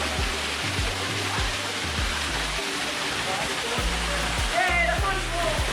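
Waterfall at the Punch Bowl in Turkey Run State Park, running with more water than usual: a loud, steady rushing roar close by, continuous throughout, with a voice talking over it.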